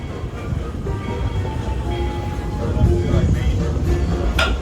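The Walt Disney World Railroad train at Magic Kingdom rumbles along the rails with a steady low roar and faint clattering, growing slightly louder toward the end.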